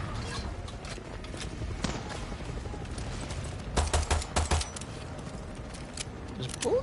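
Bursts of rapid gunfire aimed at large fuel tanks in the shooter game Far Cry 6, a quick cluster of sharp cracks mid-clip over a steady noisy background, with a voice talking at times.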